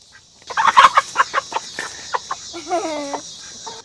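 Chickens cluck in a vegetable garden, with a close, lively run of short clucks and squawks at an uneven rhythm, ending in a longer drawn-out call and a final cluck.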